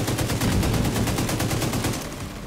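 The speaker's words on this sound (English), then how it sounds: "I'm shooting him with all I got" Rapid automatic gunfire in The Division 2, a dense sustained burst of closely spaced shots that stays loud for most of the stretch before easing slightly at the end.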